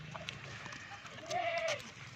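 A Rajanpuri goat at a livestock sale lets out one short, nasal bleat midway through, over faint background chatter and the ambient noise of the animal pen.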